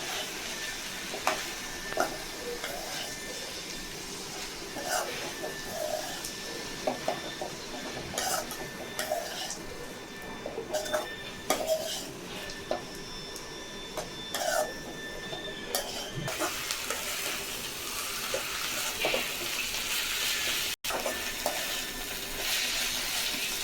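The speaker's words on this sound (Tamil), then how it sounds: "நல்லா கிண்டிக்கலாம்." A spatula stirs drumstick leaves frying in a pan for a Tamil stir-fry, giving soft scraping and clinking over a quiet sizzle, with scattered taps against the pan throughout.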